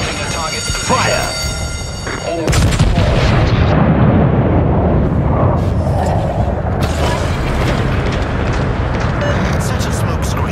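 Naval guns on a warship in a video game thunder in a loud, deep roaring salvo, sustained and rumbling after a sudden onset, with voice callouts heard over the battle.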